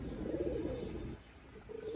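Sialkoti choohay breeder pigeons coo close by in a low, continuous rolling murmur, with a slight dip midway before the cooing swells again.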